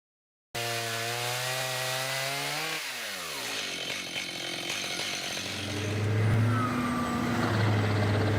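A sawmill saw rips a log into lumber planks, a loud steady motorized whine that sweeps down in pitch partway through, then continues as a broadband grinding roar with a low hum underneath.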